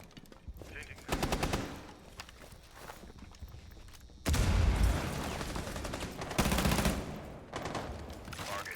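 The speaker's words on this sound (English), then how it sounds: "throwing some shots through the wall, hoping to maybe get a lucky headshot" Bursts of automatic gunfire are fired through a wall in the video game Rainbow Six Siege during a competitive match, with rapid repeated shots in several loud volleys and quieter rattling between them.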